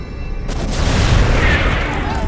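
A loud, sustained explosion effect from a War of 1812 blast, a deep booming roar with rushing debris noise that swells and lingers across the clip, with speech partly mixed in.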